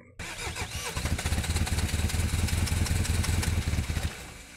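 A motorcycle-type engine that has just come out of servicing cranks and fires almost at once, then runs loud and close in a steady, pulsing chug for about four seconds before cutting back.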